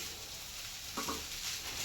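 Egg fried rice ingredients being stirred in a frying pan under a steady soft sizzle, with a brief scrape of the spatula midway; quiet and close, no voices.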